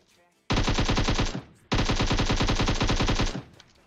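Two long bursts of rapid automatic gunfire from cheap looted weapons in PUBG Mobile, loud and close, separated by a brief pause.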